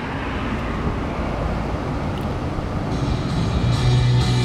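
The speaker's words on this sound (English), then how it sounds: "Revs out very well." A 2004 Toyota Camry XLE engine with 85,000 miles revs up, a steady broadband roar that swells slightly toward the end, heard close and loud with no talk.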